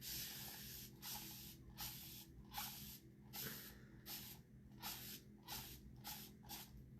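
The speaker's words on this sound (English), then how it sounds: "Okay, spray with water." Repeated short bursts of water sprayed from a spray bottle, about a dozen squirts in an uneven rhythm, close and fairly quiet, with no talking.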